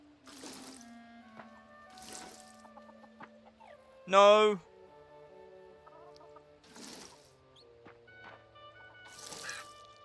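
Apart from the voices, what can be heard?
chicken clucking in the video game Fae Farm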